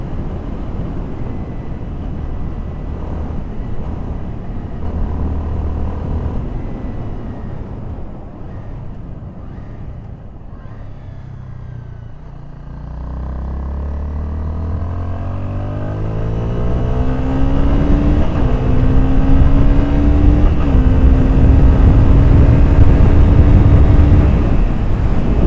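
A motorcycle rides along a highway, its engine droning and climbing in pitch as it accelerates through the gears, with constant wind roar building louder toward the end.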